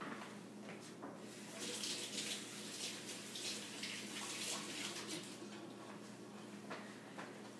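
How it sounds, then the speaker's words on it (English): Water runs steadily from a kitchen tap as hands are washed clean of sticky cane sugar, a continuous hiss with faint splashing, moderately close and alone. "I'm going to wash my hands real quick."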